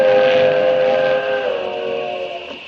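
A cartoon train whistle blows loud and sustained from an approaching train, a steady chord-like tone that gently bends and fades over a few seconds.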